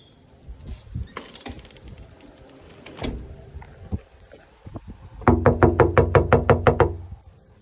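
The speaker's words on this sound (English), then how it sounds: "So I'm going to knock on the door." Several sharp knocks on a door arrive as a quick, evenly spaced burst of about ten raps, following scattered softer taps and thumps around the house.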